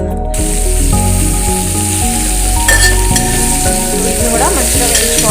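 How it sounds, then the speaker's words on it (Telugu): Eggplant pieces fry in oil for vankaya pachadi, a loud continuous sizzle and spatter that runs throughout, with music playing underneath. "ఇదే ఆయిల్లో వంకాయలు వేయించేసుకుందాం."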